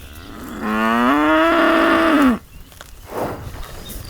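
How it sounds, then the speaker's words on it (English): A single long, loud moo from a dairy cow being led from the fields at dawn on a Brittany farm, close by, followed by fainter shuffling and another distant bovine sound. "the cows, they're being guided from the fields across the road directly to the milking sheds"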